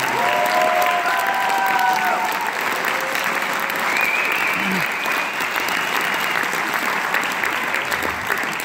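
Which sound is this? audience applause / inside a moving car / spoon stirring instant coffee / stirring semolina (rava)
audience applause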